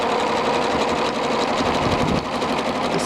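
A sewing machine runs a zigzag stitch along the raw edge of a ring sling, a loud, steady mechanical whir with a rapid rhythmic chatter and only a brief dip near the end.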